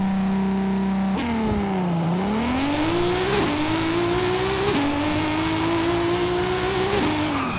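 A car engine in Forza Horizon 5 revs hard for a custom launch control start, its pitch climbing in repeated surges with brief dips between them, loud and steady throughout with no one talking.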